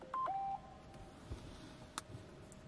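A phone notification tone sounds once near the start as a short pair of clear electronic beeps, faint and alone in a quiet room, followed by a few soft clicks.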